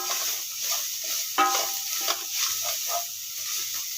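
Greens, capsicum and sweet corn sizzle in a pan in a steady close hiss, with a few brief crackles and pops rising over it.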